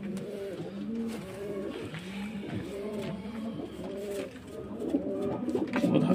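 Pigeons coo in soft, repeated rolling calls, several birds overlapping steadily against a murmuring background.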